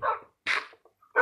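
A tamed wolf dog in Minecraft barks in short, sharp bursts, three yaps with brief gaps between them, close and fairly loud with no talking over them.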